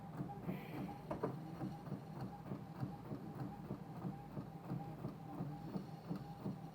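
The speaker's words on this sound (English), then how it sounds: "You're going to see it print like live." A large-format printer prints a 12 by 24 inch image on cardstock at its highest quality setting. Its print head shuttles back and forth in a quiet, steady rhythmic chug, with no talking.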